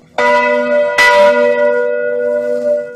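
A single bell rings out with a sustained, resonant tone, struck again about a second in, its hum lingering loud and steady.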